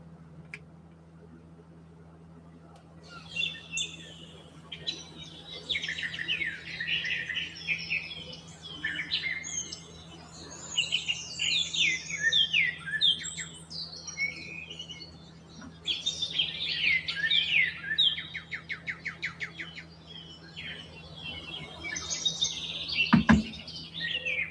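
Birds chirp and squawk continuously in busy overlapping bursts, fairly close, over a steady low hum with a sharp knock near the end.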